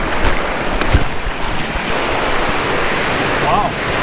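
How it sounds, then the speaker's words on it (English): A waterfall in a mountain creek pours steadily, a dense, constant rush of water with some wind buffeting the microphone and a few faint knocks. "Wow, that's a legit waterfall."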